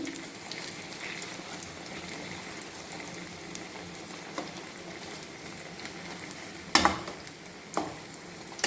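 Banana fritters (pazham pori) fry in a small amount of oil, giving a steady, soft sizzle and crackle throughout, with a couple of louder clatters near the end.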